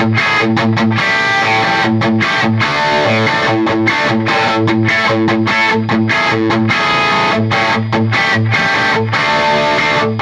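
Distorted 80s-style electric guitar riffs played through a Marshall Studio Vintage SV20 half stack, loud and continuous with rhythmic chugging chords and short choppy gaps, no voices.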